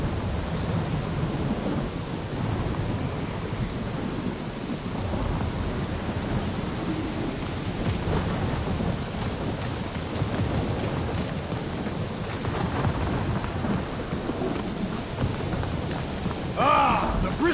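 Steady rain pours through a thunderstorm in a video game, with continuous low rumbling thunder rolling underneath and a brighter burst of noise near the end.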